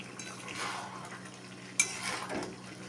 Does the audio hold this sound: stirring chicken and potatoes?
yes